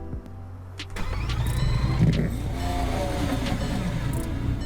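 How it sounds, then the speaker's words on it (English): Lamborghini Aventador in the Roblox game Greenville, a right-hand-drive car, starts up: a starter click, then a steady, fairly loud mid-pitched engine idle that keeps running at a constant level. "Just has normal Lamborghini Aventador sounds"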